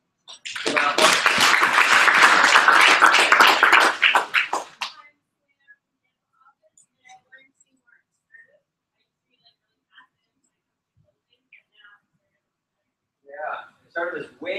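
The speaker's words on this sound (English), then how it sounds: "Give a round of applause." An audience at a COC 2017 event claps in a dense, sustained burst for about four seconds, then fades to near silence with scattered faint taps, before brief voices resume near the end.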